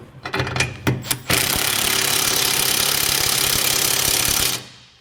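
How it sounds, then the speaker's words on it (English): Power tool driving the bolts of a Curt trailer hitch receiver on a 2022 Ram 1500 with a 3/4 inch socket, a few short bursts and then a steady loud whir for several seconds that cuts off. "we're going to go back to the bolts that we hand tightened underneath with our 3/4 inch socket, and we're going to just tighten these down"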